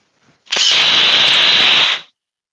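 A DeWalt power tool running flat out in a speed test, a loud steady high-pitched whine that starts abruptly, holds for about a second and a half, then cuts off.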